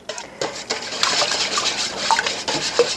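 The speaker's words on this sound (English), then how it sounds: "it does kind of make it a little easier to go ahead and get the eggs whisked up properly" Eggs are whisked in a bowl for make-ahead freezer breakfast burritos, producing quick irregular clinks and scrapes of a whisk against the dish, close and moderately loud, with no speech.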